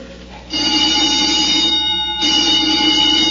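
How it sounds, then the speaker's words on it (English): An alarm bell rings loudly and continuously, kicking in abruptly after a moment of low background and holding a steady metallic clang, with a brief dip partway through. "The old woman must have turned in an alarm."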